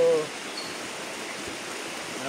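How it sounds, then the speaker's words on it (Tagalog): A river stream flowing steadily in an outdoor spot, a soft continuous broadband rush of water heard alone at moderate, even loudness. "hanapin yung ilog na to"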